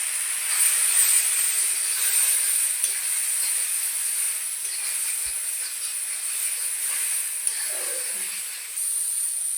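Chilli powder and cumin powder fry in a pan for mango chutney, giving a steady close hiss that holds evenly for several seconds, with no voices.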